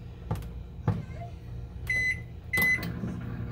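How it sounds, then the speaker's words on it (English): Button beeps from a convection oven timer being set ring out as a couple of short electronic tones among clicks and handling knocks, close and fairly loud. "I didn't set the timer"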